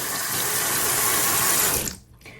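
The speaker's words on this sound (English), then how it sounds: "turn your water on to warm" Warm tap water pours steadily over a soap dish, a loud continuous splashing hiss that cuts off near the end, followed by a brief quiet drip.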